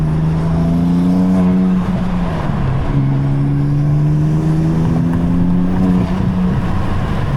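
A BMW F80 M3 with only a downpipe upgrade drones and revs up and down in smooth sweeping pitches, loud and close, with a deep throaty rumble and no voices.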